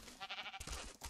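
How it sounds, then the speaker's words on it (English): Short bleating from a black sheep in the Ark Scorched Earth video game, two or three quick wavering bleats, fairly close and moderately quiet, heard alone. "Sheep. Black sheep."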